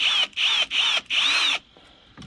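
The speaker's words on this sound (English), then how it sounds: "We'll go ahead and throw in the second screw." A power drill whirs in four short bursts as it drives a screw into the mount of a DIY automatic poultry waterer, then falls quiet.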